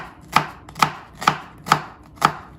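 An onion is chopped with a knife on a board in five evenly spaced, crisp, close chops with no talking.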